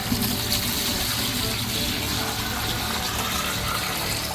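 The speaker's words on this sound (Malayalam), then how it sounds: "ആദ്യം തന്നെ നമ്മുടെ ഒരു നാല് ലിറ്റർ വെള്ളം ബക്കറ്റിലേക്ക് ഒഴിക്കുകയാണ്" Four litres of water pour into a plastic bucket in a steady, continuous rushing splash that holds at the same level throughout, with no talking.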